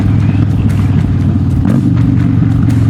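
Harley-Davidson Dyna Street Bob motorcycle engine rumbling loud and close, a deep steady V-twin throb with a slight rise in revs partway through.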